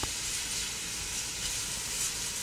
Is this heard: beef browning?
yes